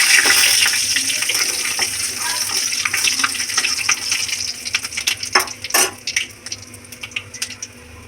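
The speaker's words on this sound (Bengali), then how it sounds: "এবার দিয়ে দেবো ফোড়নের জন্য শুকনো লঙ্কা, শুকনো লঙ্কা, পাঁচফোড়ন," Dry red chillies, panch phoron and bay leaf sizzle loudly in hot oil for a potato, poppy seed and moong dal, a strong hissing fry that settles into crackles and spits, with no talking.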